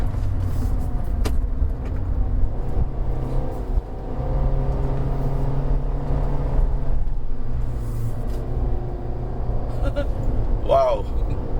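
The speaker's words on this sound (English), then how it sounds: "There's another car." Another car passing on a misty mountain road during a hillclimb at Genting, heard from inside a Kia Picanto 1.2 GT Line in second gear: a steady low engine rumble with road noise, and voices talking over it.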